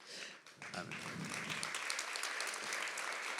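An audience at an evening leadership talk by a chef breaks into applause, starting after a brief voice and building into sustained, even clapping from a sizeable crowd.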